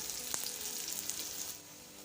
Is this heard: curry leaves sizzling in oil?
yes